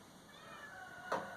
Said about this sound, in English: But what cat is out here?